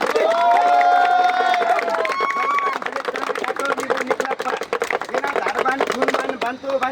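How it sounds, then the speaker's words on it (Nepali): A crowd at a lively magic and comedy show claps and cheers, with shrill whoops and shouts early on, then dense, uneven clapping that continues to the end. "अलिकति हुटिङ लिएर ताली सबैले पड्काउनु होला"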